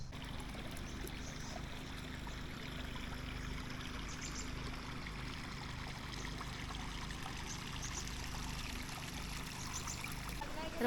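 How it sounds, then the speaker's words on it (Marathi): A small village spring stream in the Kokan countryside flows and trickles steadily, a soft, continuous watery wash with faint low rumble underneath and no voices. "तर मागे हा झरा आहे"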